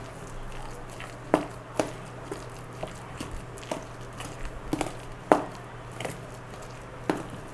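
Moong dal batter with turmeric and cumin is mixed in a bowl, producing a series of soft, wet, squelching thumps at an uneven pace. The sounds are close and moderately loud, with a faint hum underneath.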